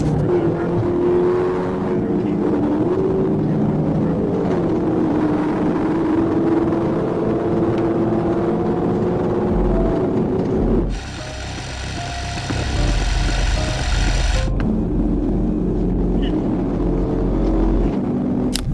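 Muscle cars, two Dodge Challengers and a Mustang, street racing on a highway, heard as a continuous loud engine roar that drops briefly midway under a different hiss before the engine drone returns.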